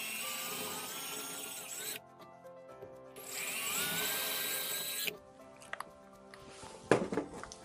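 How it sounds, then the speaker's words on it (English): A power drill boring small pilot holes into a wall for anchors whines in three separate bursts of a few seconds each, with brief pauses between them. "I'll start by drilling small pilot holes for the wall anchors"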